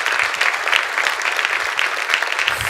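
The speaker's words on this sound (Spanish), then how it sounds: "De un aplauso al Señor" A church congregation claps together in sustained, lively applause during a sermon, dense and steady throughout.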